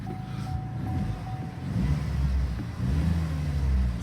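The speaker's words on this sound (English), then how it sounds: "but the engine's running absolutely fine." A Vauxhall Astra GTC engine runs with its engine management light on, giving a steady, close, low rumble that swells slightly partway through, with no speech.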